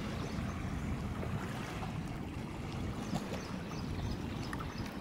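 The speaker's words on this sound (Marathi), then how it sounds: "फुल पाणी आतमध्ये येतं भरती" Sea water rushing in over a rocky Konkan shore near Ratnagiri as the high tide comes in: a continuous, fairly quiet low roar of moving water, with no voices.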